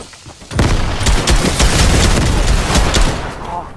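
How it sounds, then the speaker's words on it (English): Grenade blasts and rapid gunfire in Fortnite make a dense, loud burst of overlapping shots and booms lasting about three seconds, then tailing off. "He's got grenades!"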